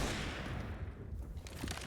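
Gunfire and grenade blasts in Counter-Strike: Global Offensive on the Inferno map, heard as a dense burst of rapid shots and thumps that thins briefly, then resumes with sharp cracks, fairly faint overall.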